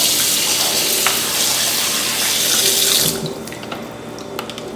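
Hot water gushes steadily from a tap into a sink, close and loud, then cuts off after about three seconds, leaving faint drips and clatter.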